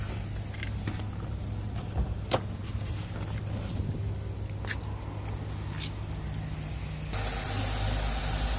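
A 1.6-litre Korean imported car engine idles with a steady low hum, joined by scattered clicks and knocks, then a louder broadband rush near the end; no one speaks.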